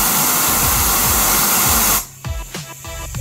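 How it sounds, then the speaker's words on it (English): Compressed air rushes through a variable-geometry turbocharger on a test bench during a leak test, a loud, steady hiss that cuts off abruptly after two seconds, followed by a few short puffs and clicks. "In the leak test, we manually close the geometry and check if the turbo has any leaks."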